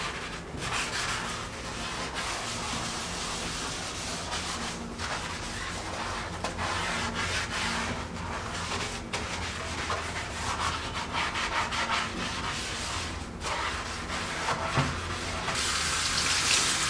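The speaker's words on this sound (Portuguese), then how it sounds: "Vamos esfregar pra deixar tudo limpinho." Steady brisk scrubbing of a bathroom surface during a cleaning session, a continuous close rubbing and swishing with faint watery tones, no talking.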